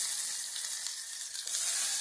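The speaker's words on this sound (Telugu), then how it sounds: "ఇదిగో ఉల్లిపాయలు వేస్తున్నాను." Onions dropped into hot oil for a tempering, crackling in a brief, steady sizzle with a slight swell toward the end.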